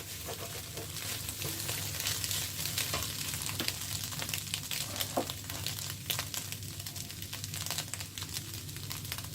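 Potato pieces stirred into egg in a hot pan, frying with a steady, close sizzle and crackle and occasional scraping stirs throughout, no voices.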